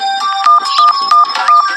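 A cartoon telephone rings in short, bright, repeated electronic bursts, several rings in quick rhythm, loud and close with no talking.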